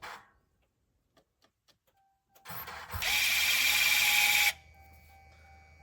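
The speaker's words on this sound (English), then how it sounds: "a working CAD unit sounds like this" A few faint clicks, then the 4WD CAD actuator of a 2022 Ram Cummins whirs and buzzes steadily for a second or so before stopping, close and alone.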